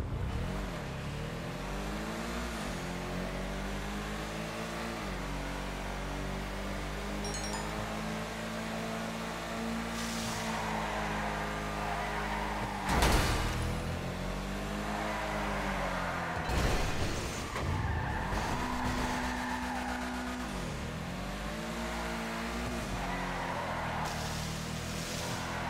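A car test drive in a video game, with the engine revving up and down through repeated acceleration sweeps, plus a few sharp bursts that fit skids or impacts, continuous and fairly loud.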